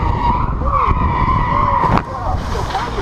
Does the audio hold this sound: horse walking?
no